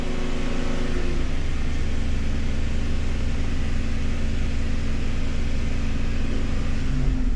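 A car engine is held on the throttle during a repair check after a sensor bung was welded in near the catalytic converter, giving a loud, continuous, even drone close by.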